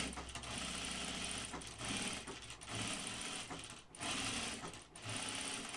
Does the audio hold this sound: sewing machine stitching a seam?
yes